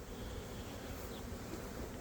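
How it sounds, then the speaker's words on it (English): Honey bees swarm around a hive in a tree, a dense, steady buzzing hum that fills the air without pause, fairly faint and unbroken. "theirs looked like an awful lot of bees going in there still"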